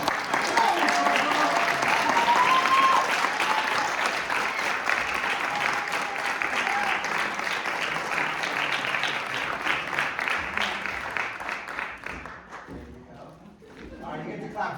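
A school theatre audience gives loud, sustained applause for a staff member after a stage production, with dense clapping and some voices running for about twelve seconds before tapering off.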